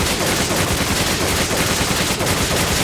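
Rapid automatic gunfire in Resident Evil 5, a dense continuous burst of shots that stays loud and steady throughout without pause.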